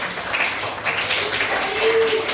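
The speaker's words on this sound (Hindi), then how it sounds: "शाबाश, ताली बजाइए" Students in a Hindi school class clap together in a short, uneven burst of hand claps at moderate loudness, with a voice briefly audible in the room.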